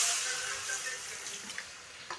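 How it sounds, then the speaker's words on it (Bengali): Water splashed into spices frying in a hot pan, with a steady hissing sizzle and a few faint clicks, no talk. "দিয়ে দেব এখানে একটু জল"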